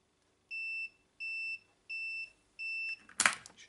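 A multimeter gives four even, steady high-pitched beeps, each about a third of a second long, close by while a Commodore C64 serial lead is being made, followed by a short scuffing noise.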